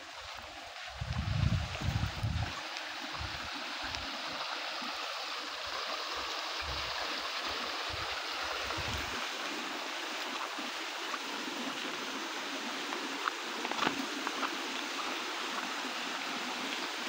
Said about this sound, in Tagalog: May mini ilog dito guys.